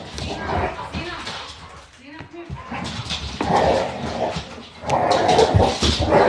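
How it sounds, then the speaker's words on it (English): Dogs fighting and whimpering in the background at home, with yips and growls scattered through steady talk from a nearby voice. "my dogs are fighting in the background"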